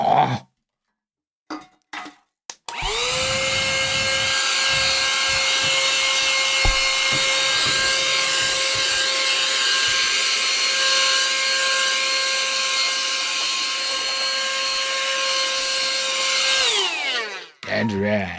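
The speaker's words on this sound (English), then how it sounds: "That was a desk vacuum cleaner." A small German-made desk vacuum cleaner clicks, then switches on with a steady, high motor whine that holds for about fourteen seconds before spinning down. A few brief knocks come just before it starts.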